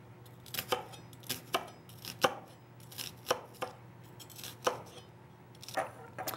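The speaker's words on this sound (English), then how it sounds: "So I continue to chop my onion here." A knife chops through a sweet onion on a board in a steady run of crisp, close knocks, about two per second, with short pauses between bursts.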